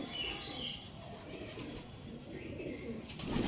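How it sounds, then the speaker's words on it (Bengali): Tippler pigeons coo in soft, repeated low calls that run steadily through the whole stretch, over a noisy, busy background. "আমি তো অরিজিনাল টিপলার পায়রা কেমন হয় দেখে নিন"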